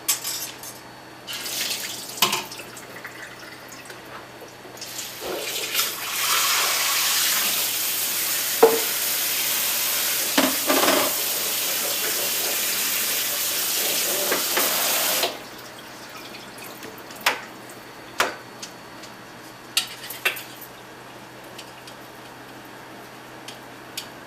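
Soaked nuts are rinsed under a running kitchen tap, a steady rush of water for about ten seconds with scattered clicks and knocks of the nuts shifting before and after the flow.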